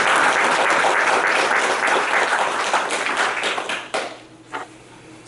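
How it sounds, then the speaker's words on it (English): A township candidates forum audience claps for chamber board members in loud, dense applause that holds steady for several seconds, then thins out into scattered claps and fades near the end. "So please give everyone an applause for helping us."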